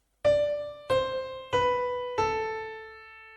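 A keyboard plays the green part of Bella Ciao: four slow, separate notes stepping downward, each sustained and fading, solo and close with no voices.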